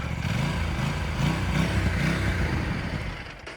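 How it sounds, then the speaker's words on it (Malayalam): An Aprilia RS 457 twin-cylinder motorcycle revs close up, its engine rising and falling in a throaty, pulsing growl that holds loud and steady before easing off at the end. "വി ഫോർ ലൈക്ക് സൗണ്ടിങ് ചെയ്യുന്ന ഒരു വണ്ടിയാണിത് സൗണ്ട് ഞാൻ ജസ്റ്റ് ഒന്ന് കേൾപ്പിച്ചു തരാം"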